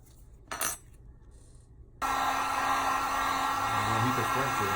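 A hair dryer or heat gun switches on abruptly and blows with a loud, steady whoosh while warming the front of a Coolpad Legacy phone to loosen its battery, following a brief clatter and near silence.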